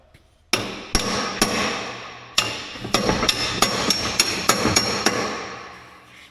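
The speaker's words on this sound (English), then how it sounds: "You need a bigger hammer" Sharp metallic blows from a Pittsburgh hammer on heavy equipment ring out close by, a few spaced blows at first, then a quicker run of about a dozen hits.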